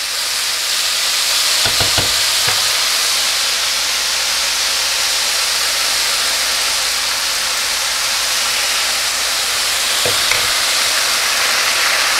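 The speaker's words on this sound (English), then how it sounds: "You can really hear that sizzle." Chicken stock ladled into a hot risotto pan sizzles steadily and loudly throughout, with a few sharp clinks of a ladle or spoon against the pan near the start and again toward the end while the rice is stirred.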